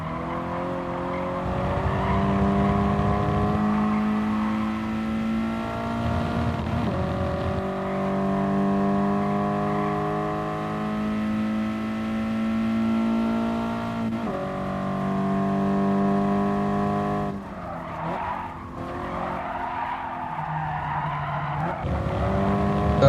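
Racing cars in the Gran Turismo Sport video game, engines droning loudly with shifting pitch and long tire squeals through corners, sustained throughout with a brief dip near the end.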